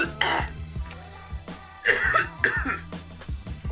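A few harsh coughs break out over background music with voices, a sharp burst early and another pair a little later.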